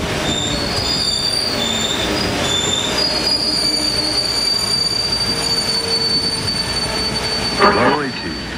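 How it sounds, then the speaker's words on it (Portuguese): Train wheels squeal loudly as a commuter train pulls into Guaianazes terminal station, with high sustained screeching tones over a steady rumble of rail cars and a brief louder burst near the end. "Estação Terminal Guaianazes, acesso aos trens com destino Estação Estudantes."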